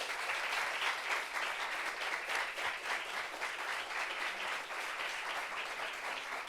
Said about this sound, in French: Applaudissements pour Zabi Yves.